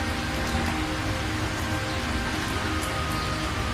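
Heavy rain pours down on a cold night. A dense, unbroken hiss of falling water stays at an even, loud level throughout, with no voices and no breaks.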